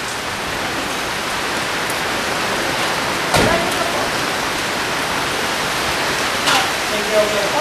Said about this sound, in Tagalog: Naku, ang ulan-ulan